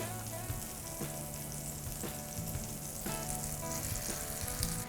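Steady sizzling of bread frying as French toast in a buttered pan, a continuous crackle with a few soft bumps and scrapes, close and moderately loud.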